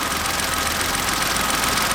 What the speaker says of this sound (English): so you eliminate the alternator, you eliminate the aircon, you eliminate that idler, you eliminate the water pump. And it's just the engine on its own.